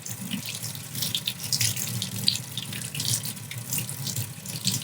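Tap water runs steadily into a sink while a resin 3D print is rinsed and squeezed clean, a close, continuous splashing hiss with no talk.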